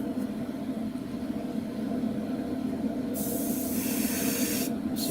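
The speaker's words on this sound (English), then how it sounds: "we go with a nice misty coat, really thin coats" Airbrush spraying thin, misty coats of paint onto the cockpit of a 1/48 scale AMK F-14D Super Tomcat model kit, a soft steady hiss that turns louder and brighter partway through, with a brief pause near the end.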